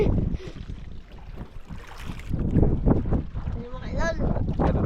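Gusty wind buffets the microphone outdoors on open water aboard a fishing boat, with people talking over the steady rush and a boat motor droning beneath.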